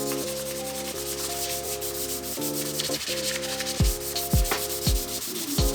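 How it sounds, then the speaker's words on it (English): 400-grit wet sandpaper rubs back and forth over a custom smoke-painted YT Jeffsy bike frame surface, a close, steady scrubbing with rhythmic strokes over a low steady background hum. "I've started the wet sanding. This is 400 grit wet sanding paper"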